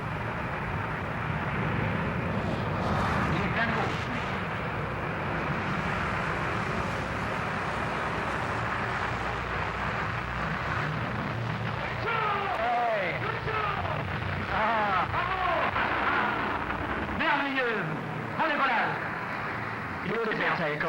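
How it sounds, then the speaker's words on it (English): Prototype 002 jet aircraft taking off at full power with reheat, a loud continuous roar with broad, rushing noise that fills the whole stretch, while someone commentates over it. "Beautiful takeoff. Climbing steeply, reheat still on, I can see."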